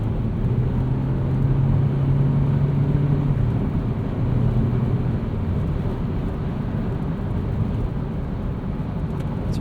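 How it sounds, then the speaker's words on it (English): Cabin of a 2020 Hyundai Venue SEL at highway speed on a windy day, a constant low road-and-wind roar with a faint droning hum, steady and unbroken. "we're getting a little bit more wind noise than we would normally"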